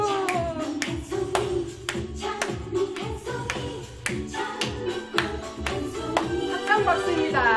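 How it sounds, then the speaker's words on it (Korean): Hands clap in steady rhythmic beats, roughly a dozen crisp slaps keeping time with a sung Korean trot tune and its accompaniment in a seniors' exercise class. "박수."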